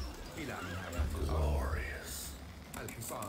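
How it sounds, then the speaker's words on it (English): Horse whinnies from the medieval strategy game Stronghold Crusader ring out over continuous game music and battle noise, with a rising neigh in the middle of the clip. "Horses."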